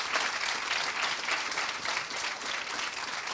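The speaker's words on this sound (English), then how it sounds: "Please join me in a great round of applause." An audience gives a round of applause after a panel discussion on machines and jobs, a sustained, even roar of many hands clapping together, loud and uninterrupted from start to finish.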